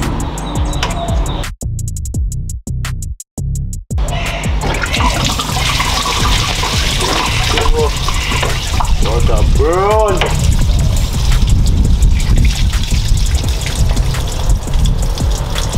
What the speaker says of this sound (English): I need to drain back the water and then put in some fresh coolant